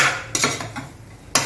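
Rice and chicken being mixed in a pan, with a few sharp utensil scrapes and clinks against the cookware at the start and end, fairly close and with no talking.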